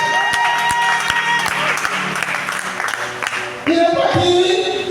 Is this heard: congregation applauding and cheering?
yes